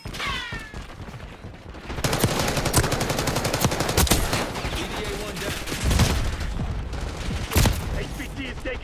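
Rapid bursts of automatic gunfire and scattered shots from the Black Ops 6 beta video game, loud and dense throughout, mixed with in-game voice callouts and other battle noise.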